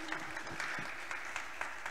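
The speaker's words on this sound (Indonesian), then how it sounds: "Kalau tepuk tangan buat Tuhan itu jangan ragu-ragu" A church congregation claps throughout, with brisk, fairly even applause and a few sharper individual claps standing out near and loud.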